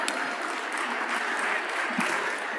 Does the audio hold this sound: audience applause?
yes